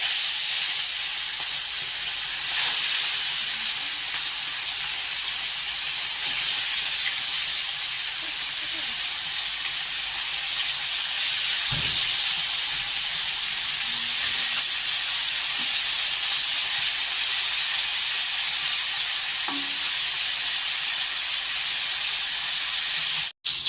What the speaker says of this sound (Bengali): মাছগুলো ভাজা হয়ে গেছে, এখন আমি নামিয়ে নেব।